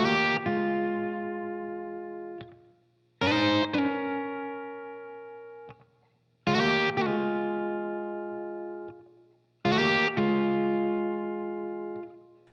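Electric guitar plays a repeating blues figure in the style of a blues song, with four ringing phrases that each strike sharply and then sustain and fade, played clean and alone without talk.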